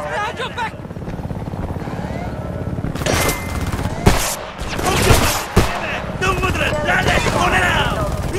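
Gunfire bursts and booms in the war shooter Homefront on PS3, rapid shots cracking over a steady mechanical drone, with shouted voices breaking through between volleys.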